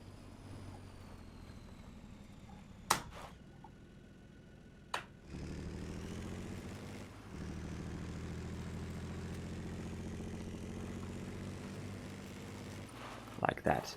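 A video game vehicle with a 107 km/h top speed accelerates from rest, its engine drone rising and holding steady at moderate level, broken by a few sharp clicks near the start and end.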